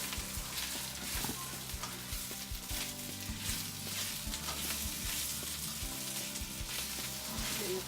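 Garlic and a spoonful of tomato paste fry in a pan for Filipino menudo, giving a constant close sizzle broken by soft stirring scrapes and taps, with no voices.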